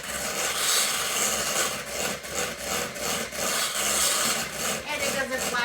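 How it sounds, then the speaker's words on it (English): Room-temperature cream cheese being whipped with a beater in a bowl for a lime cheesecake: a steady, rough, scraping whir with rhythmic pulses, continuous and close throughout. "I'm just going to beat that up with our beater."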